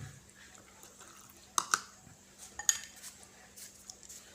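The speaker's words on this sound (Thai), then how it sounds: "นี่แม่จ๋าก็ตักปลาลาในถ้วยนะครับ ใส่กระปุกไว้นะครับ" Fermented fish being spooned from a jar into a bowl, with a few sharp clinks of the utensil against the dish standing out from a quiet room.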